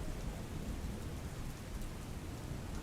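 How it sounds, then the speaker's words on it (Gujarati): Heavy rain with strong wind in Palanpur, Banaskantha, a dense, steady wash of noise with a deep rumbling undertone, continuous and fairly faint throughout. "પાલનપુર ખાતે ભારે પવન સાથે વરસાદ ખાબક્યો હતો"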